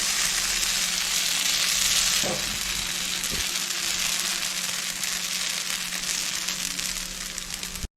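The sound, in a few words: string parotta batter frying and sizzling in an oiled pan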